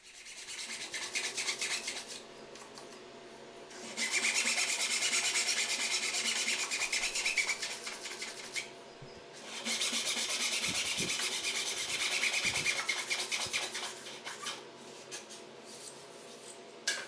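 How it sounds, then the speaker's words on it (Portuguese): Hand saw cutting wood dovetails for an amp cabinet: two long stretches of steady rasping back-and-forth strokes, close and clear, separated by quieter pauses with small knocks. "A parte da serragem dos rabos de andorinha."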